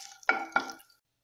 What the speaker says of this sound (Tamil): கருவேப்பிலை சேர்த்துட்டு நல்லா வறுத்து விட்டுக்கலாம்.